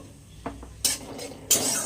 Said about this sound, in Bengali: পোস্ত আমি অ্যাড করলাম এবার পোস্তটা হালকা একটু ভেজে নেব